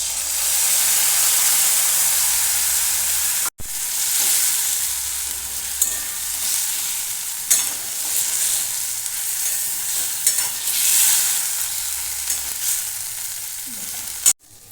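Fried potatoes sautéed with turmeric and spices over lowered gas, giving a loud, steady sizzle and hiss with occasional stirring scrapes, close and without voices.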